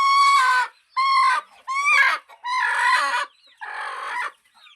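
A free-range country hen calls out in five loud, drawn-out squawks with short pauses between them, close by on a farm and otherwise quiet.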